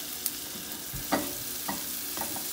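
French toast fries in butter in a skillet, giving a faint, soft sizzle with a few quiet scraping stirs or turns at intervals.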